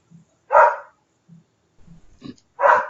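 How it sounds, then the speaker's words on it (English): Dogs bark at home as a food delivery arrives: two loud, sharp barks about two seconds apart, with softer low woofs and yips between them. "Sorry, I got dogs."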